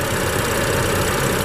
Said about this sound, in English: this one is equipped with BMW's 3-liter turbocharged inline 6-cylinder